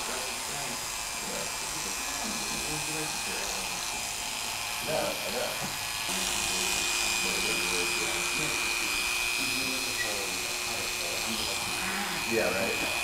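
Detachable electric hair clippers buzz steadily while trimming a long, thick beard, a close, continuous whirring that shifts slightly in pitch as they move, with someone talking over it throughout.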